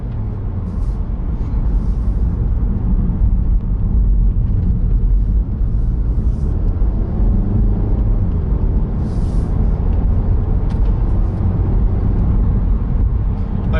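A Volkswagen Golf GTI rolls over a bumpy road, its dense low rumble steady and loud throughout, the road and engine noise continuous with a few brief higher rattles from the suspension over the bumps.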